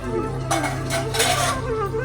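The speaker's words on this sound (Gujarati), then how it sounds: "શું કરીશ વાસણ ઘસું" Dishes clatter and scrape in bursts, as if being scrubbed at a sink, with a steady low hum underneath.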